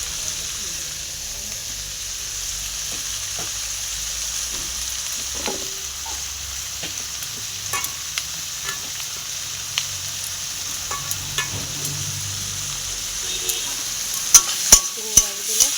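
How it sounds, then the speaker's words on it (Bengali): Prawns fry in a pan, giving a soft continuous sizzle and hiss with occasional stirring scrapes and light clicks that grow sharper toward the end. "চিংড়ি মাছগুলো ভেজে নিলাম।"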